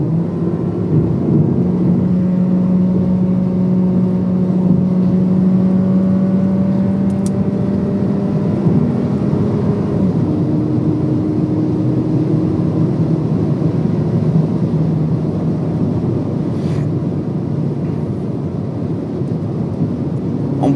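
Steady in-cabin roar of a VW Polo GTS fitted with a downpipe accelerating on the road, engine tone sweeping upward over about twenty seconds beneath continuous road and wind noise.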